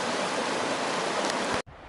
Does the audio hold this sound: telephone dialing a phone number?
no